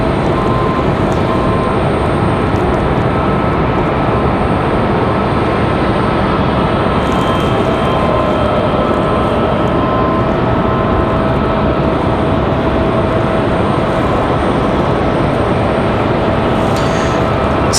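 A Southwest Boeing 737 MAX 8 departs Raleigh-Durham airport with a loud, continuous broadband jet roar that stays steady and powerful throughout.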